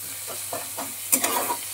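Onions fry in a pan while a spatula stirs and scrapes through them, soft sizzling under a few irregular clinks and strokes, close and steady.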